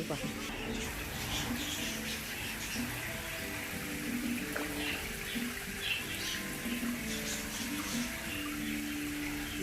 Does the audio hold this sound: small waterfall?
yes